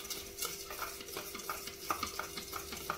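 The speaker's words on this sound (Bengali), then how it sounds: "বেকিং পাউডার আর বেকিং সোডাটা ভালো করে দুধের সঙ্গে মিশিয়ে নেব।" A spoon stirs baking powder and baking soda into milk for an eggless semolina sponge cake, giving a steady run of soft clinks and scraping strokes against a bowl, close and fairly quiet.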